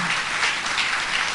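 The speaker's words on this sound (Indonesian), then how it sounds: "Berikan tepuk tangan." A congregation applauds during a church service, giving a short burst of dense, even clapping with no talk over it.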